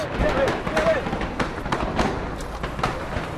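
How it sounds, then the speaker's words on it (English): A rapid series of sharp gunshot cracks rings out at a distance outside Nairobi's Westgate shopping mall during an attack, repeating irregularly beneath someone talking. "there's a series of shots ringing out now just outside the shopping centre"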